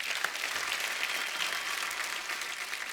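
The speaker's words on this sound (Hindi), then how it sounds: "तो एक बार तारा फ्रॉम सतारा की टीम के लिए जोरदार तालियां।" A studio audience on a television comedy show applauds in a dense, continuous wash of clapping that stays even and fairly loud from start to finish.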